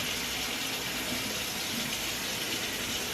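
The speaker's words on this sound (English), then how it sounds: "So I normally rinse the rice about 3 or 4 times good." Rice being rinsed by hand in a bowl of water, with a steady wet swishing and sloshing that carries on close up without a break and no voices.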